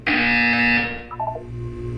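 Electronic buzzer in the Portal 2 video game, a single loud sustained tone that sounds for about a second before cutting off, leaving a low background hum.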